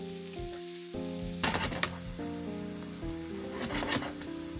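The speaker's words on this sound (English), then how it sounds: "I stir fry it until the onion becomes transparent." Onion stir-frying in an oiled pan, a loud sizzle that jumps up sharply partway through, with scraping stirring strokes over a droning hum, no talking.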